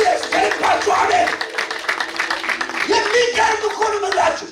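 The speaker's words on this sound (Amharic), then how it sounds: "እስቲ አንድ ጊዜ ትልቅ ልልታና ጭብጨባ ስጡ ለዚህ ጌታ" Church congregation at an Ethiopian worship service clapping and ululating together, a dense sustained wash of hand claps with high trilling voices layered over it, loud and continuous throughout.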